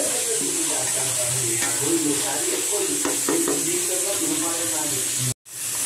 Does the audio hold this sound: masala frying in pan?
yes